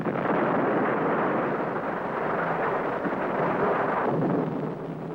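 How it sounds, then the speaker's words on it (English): An atomic bomb, remotely detonated, destroys a methane-to-oxygen converter and pumping system on Neptune in a 1954 science-fiction serial: a sustained, dense roaring rumble, loud and close, holding steady for several seconds before easing slightly near the end. "The powerful atomic bomb, detonated by remote control from Earth, completely destroys the converter and the pumping system."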